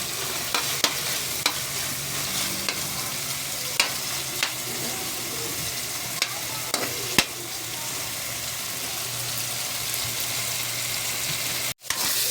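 Meat fries in a pan for a mung bean monggo dish, a steady sizzle running underneath while a utensil scrapes and clicks against the pan at irregular intervals, then a sudden brief dropout near the end.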